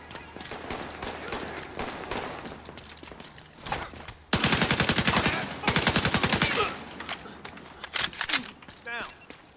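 Gunfire in the video game The Division 2, with two loud rapid automatic bursts of a couple of seconds each in the middle, preceded by lighter shots under game noise and followed by scattered single shots.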